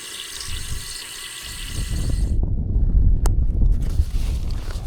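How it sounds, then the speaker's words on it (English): Outdoor drinking-water tap on a coastal hiking trail, water gushing and splashing steadily up close after a brief hiss, with light wind noise and no talk. "Got some drinking water right here we can grab."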